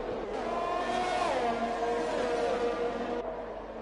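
F1 race cars in F1 2021 at the Azerbaijan street circuit, a high engine whine rising and sweeping down in pitch as a car passes close, loud and continuous with no talk.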